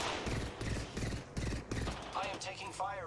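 Rapid bursts of automatic gunfire and sharp shots from the Apex Legends battle-royale game crackle in quick rattling volleys, mixed with game sound effects and someone talking over it.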